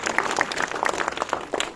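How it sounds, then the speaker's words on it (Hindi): A crowd at a speech event claps loudly in a brief, energetic burst of dense applause lasting under two seconds. "एक बार दुबे जी के लिए सारे लोग जो है ताली बजाओ जोर से।"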